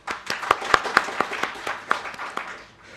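Applause from an audience at a keynote event, a scattering of sharp, distinct hand claps spread over a few seconds and fading toward the end, fairly close and sparse rather than a full roar.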